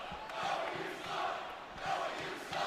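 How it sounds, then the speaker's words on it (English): A basketball arena crowd reacts during a free throw, a loud, massed roar and jeer that swells and fades in waves with no clear single voice standing out. "You can hear the crowd behind us telling the world what they think of Noah right now."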